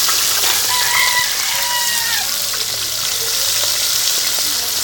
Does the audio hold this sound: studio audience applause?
no